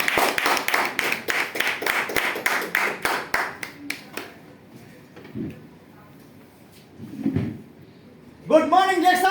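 A group claps together in a fast, even rhythm for about four seconds, then stops. A few faint sounds follow, and a voice starts speaking at the end.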